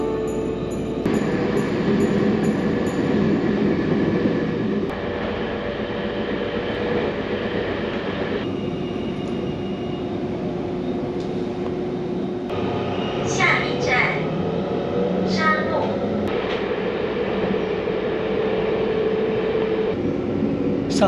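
A passenger train on Taiwan's coastal line rumbles steadily from inside the carriage, with constant low wheel and engine noise and a few squeals, while voices and announcements are heard over it.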